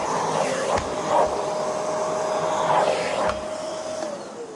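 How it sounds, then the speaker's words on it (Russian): A Philips vacuum cleaner hums steadily as it runs over a Soviet-era carpet. Its whine rises and falls slightly as the nozzle moves, and there are brief knocks but no speech. "Пылесосит отлично."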